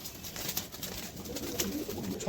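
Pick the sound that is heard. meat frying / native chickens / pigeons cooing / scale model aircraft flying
pigeons cooing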